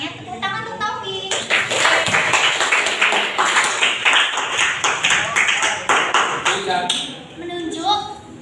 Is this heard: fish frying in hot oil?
no